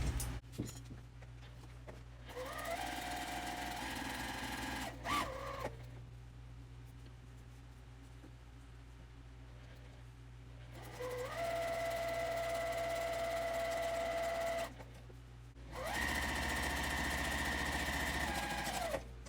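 A sewing machine chain piecing cotton quilt fabric, stitching quarter-inch seams on both sides of a marked line, runs in three steady bursts of whirring motor hum, with short quiet pauses between the seams.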